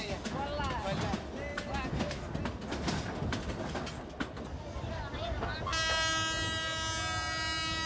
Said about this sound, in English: When the train makes a stop